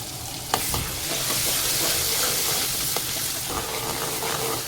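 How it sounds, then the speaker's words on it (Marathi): Ground masala paste frying in hot oil over a high flame for a fish curry, a dense, close sizzle with stirring scrapes and a few sharp clinks, steady throughout with no talking. "तर मसाल्याला छान एक 2 मिनटं हाय फ्लेमवरती फ्राय करते"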